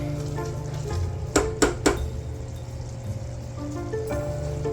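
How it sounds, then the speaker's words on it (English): Bubbling sugar mixture for no-bake cookies sizzles softly and steadily while a utensil scrapes and stirs, with three quick sharp clinks in the middle. "Boiling sugar."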